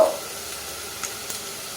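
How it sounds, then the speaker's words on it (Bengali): Onion frying lightly in a pan, a soft continuous sizzle with a couple of faint stirring taps, quiet and close. "হালকা ভাজতে হবে পেঁয়াজটা বেশি লাল করে না ভাজলেও হবে"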